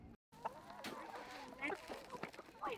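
Chickens cluck and squawk in short, overlapping bursts, fairly close, with some faint human voices mixed in.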